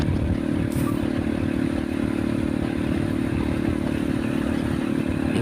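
Steady, loud wind roar buffets the microphone while riding a motorcycle on a straight, smooth road between Pendopo and Simpang Belimbing, a constant broadband rush with the engine's low rumble underneath throughout.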